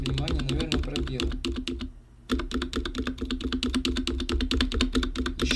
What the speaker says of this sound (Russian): Не сказать, что первая клавиатура какая-то там прям сильно противная на звук.